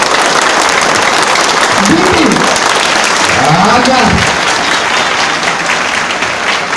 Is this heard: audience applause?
yes